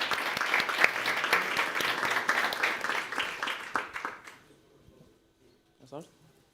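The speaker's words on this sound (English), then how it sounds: "An applause, please," Applause for a finalist at a young chef cooking competition, a dense burst of clapping from a live audience that fades out after about four seconds, followed by a brief voice.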